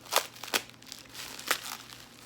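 A box cutter slicing through heavily applied packing tape on a box, a few quick crisp slicing and crinkling strokes, fairly close and quiet.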